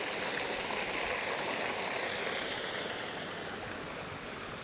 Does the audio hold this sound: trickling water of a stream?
yes